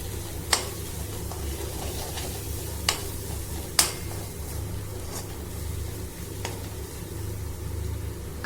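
Chili powder, coriander-cumin powder and garam masala frying in a pan for an Andhra-style prawn fry, a steady low sizzle with a few sharp clicks of a spoon stirring against the pan.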